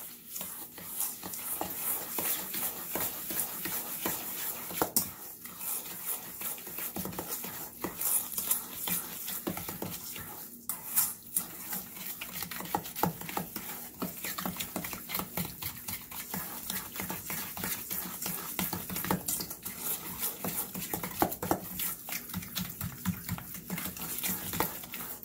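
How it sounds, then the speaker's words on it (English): Butter being stirred into brown sugar in a bowl for a Hennessy pineapple upside down cake, a steady close scraping and swishing that continues throughout with no voices. "I'm going to add it to the brown sugar. And I'm going to stir it till it's nice and combined."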